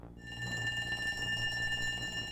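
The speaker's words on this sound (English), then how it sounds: "Then I heard the alarms." An alarm in the video game WILL: A Wonderful World rings with a steady, high, continuous electronic tone over a low ambient hum, with no speech.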